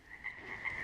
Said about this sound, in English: we spent hours sitting around the campfire listening to the frogs